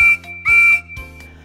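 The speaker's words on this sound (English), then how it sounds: "He's making a toot sound from his whistle" Percy, the small steam engine from Thomas & Friends, gives a few short, bright whistle toots in a quick uneven rhythm, loud and close, with no talking.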